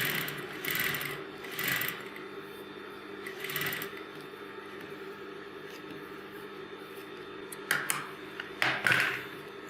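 Sewing machine stitching a kanchli blouse, steady whirring hum with intermittent bursts of faster rattling stitching, close and moderately quiet, no talk.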